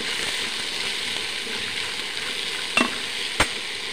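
Mixed vegetables with green chillies sauté in a pan with a soft continuous sizzle, broken by two sharp spatula clanks against the pan near the end; close, fairly quiet, nobody speaking.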